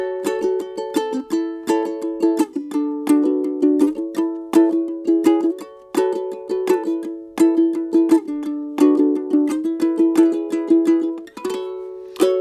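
Ukulele strumming, chord after chord in a steady rhythmic pattern of bright plucked strums, played solo with no voice.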